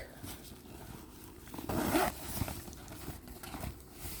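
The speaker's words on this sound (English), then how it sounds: "Full zipper on the back." A zipper runs along the back of a Dooney & Bourke leather handbag, heard as one short close rasping pull amid quiet handling noise.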